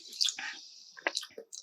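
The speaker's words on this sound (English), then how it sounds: "let's try my sparkling water from this bottle now" Sparkling water sipped from a stainless steel bottle: close, quiet gulps and wet fizzing squishes in short bursts, with small clicks of the bottle, no speech.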